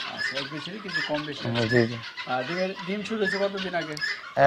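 Guinea fowl on a farm give a busy run of repeated harsh, clucking calls from several birds close by, overlapping and fairly loud, with a sharp cry at the very end.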